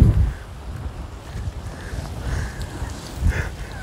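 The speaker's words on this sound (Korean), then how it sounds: "지금 눈바람 부니까 막 바람 더 추운 것 같아요." Snowy winter wind gusting at a fishing port in Mokpo, a steady rushing roar with buffeting on the microphone, loud and close, no voices.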